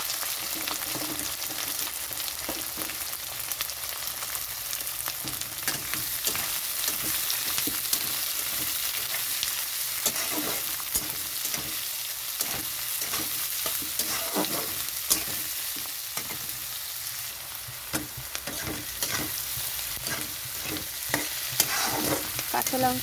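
Onion and green chillies sizzle steadily in a wok of garlic-scented oil while a spatula stirs and scrapes in irregular strokes, a continuous close frying hiss with clicking stirs and no talk.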